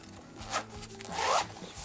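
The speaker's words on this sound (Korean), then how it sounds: "지퍼를 열면" A zipper is pulled open on a small umbrella rain cover with a polyester shell and a microfiber lining. It makes a close, continuous scratchy rasp that rises to a louder stretch near the end.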